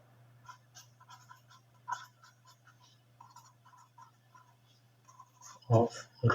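A pen writes on paper or a board during a physics numerical worked out in class, making a quiet run of short scratchy strokes in uneven bursts over a low steady hum, with a few louder knocks near the end.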